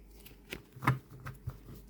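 Glossy tarot cards fanned and handled close up, giving a few soft papery riffles and light taps over a quiet room.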